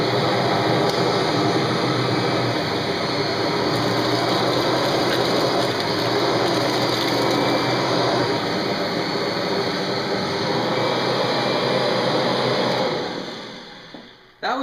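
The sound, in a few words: Kirby Generation 3 vacuum cleaner running on high pile carpet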